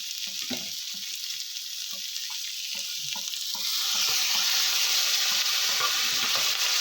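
Mushroom masala with chopped tomato and spices sautéing in a pan: a continuous bright sizzle with repeated soft scraping and stirring strokes, the frying hiss swelling louder partway through after a splash of water.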